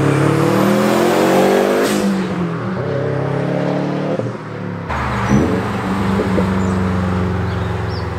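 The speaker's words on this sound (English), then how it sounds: "record a drive-by of the STI as I freaking hit boost" Loud, close engine of a 2020 Subaru STI accelerating on boost in a drive-by. It rises and sweeps past, then drops to a steadier drone with a sharp shift partway through.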